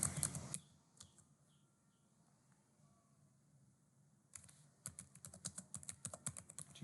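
Computer keyboard being typed on, with a quick cluster of keystrokes, then a quiet gap, then a faster run of close, crisp key clicks.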